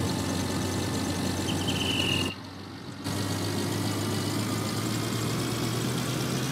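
A tractor engine in Farming Simulator 19 idles with a steady low rumble, briefly dropping out for about a second before resuming at the same level.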